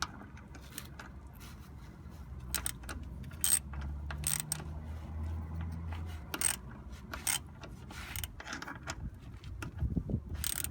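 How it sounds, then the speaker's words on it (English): Strut spring compressor on a Chevrolet Astro front shock being turned and tightened, giving quiet ratcheting clicks and mechanical creaks at irregular intervals, close by in a quiet garage. "as I turn this and tighten it, it's going to compress the strut all the way up"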